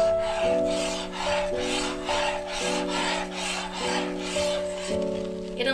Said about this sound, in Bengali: গুঁড়ো দুধটা দিয়েও আবার নাড়তে থাকি।